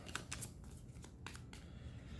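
A few quick papery riffles and flicks of Gravwell game cards being shuffled, quiet and close, in short bursts with brief pauses between.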